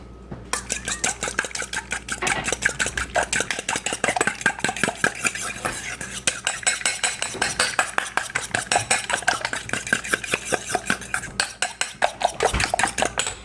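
A hollandaise sauce base being whisked in a bowl, a fast, steady run of close metallic clinks and scrapes that continues without pause, with no talk over it.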